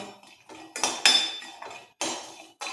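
Unpeeled garlic cloves are roasted in a pan, heard as a few distinct, close metallic clanks and scrapes of a utensil against the pan in short bursts with quiet gaps between.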